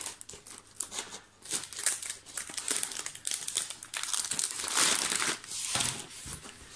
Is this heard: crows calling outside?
no